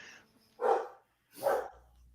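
A dog gives two short, sharp barks about a second apart, fairly close. The room is otherwise quiet and no one talks.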